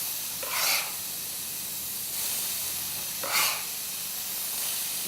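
Vegetables and onion fry in oil in a pan for a spicy tofu dish, giving loud hissing bursts that swell and fade three times over a steady background sizzle, with no talking.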